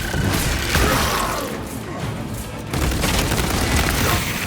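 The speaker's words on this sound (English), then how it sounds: "Sending frag grenade!" A frag grenade blast in the Space Marine 2 co-op video game, heard as loud, dense booming and crashing with sustained rumble and overlapping combat noise throughout.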